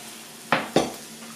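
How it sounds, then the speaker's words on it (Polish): A pot of Polish-style beans with meat in tomato sauce (fasolka po bretońsku) is stirred, giving two quick, close scraping swishes of a utensil through the thick mixture over a quiet background. "a tutaj właśnie fasolka mi się gotuje z tym wszystkim"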